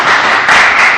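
A short burst of steady clapping and applause from a church congregation, loud and dense, holding through the whole second with no voices over it.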